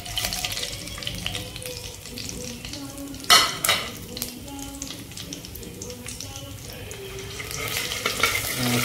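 Whole spices fried in oil in a pan: panch phoron, bay leaf, two cloves, two peppercorns and a chilli for a hilsa curry, giving a steady close sizzle with one sharp clatter partway through and faint voice-like sounds beneath.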